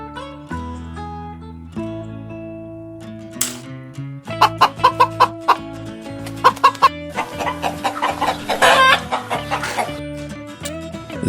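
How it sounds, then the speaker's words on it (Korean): A chicken clucks in a quick series of short, sharp repeated notes, starting midway and growing busier toward the end, set against a steady musical backing. "chicken,"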